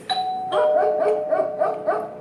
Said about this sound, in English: The doorbell rang. And Gringo started barking.